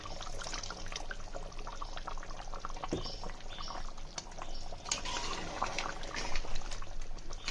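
Soaked tamarind water pours into simmering country chicken curry, a continuous close splashing and trickling over gentle bubbling, with no voices.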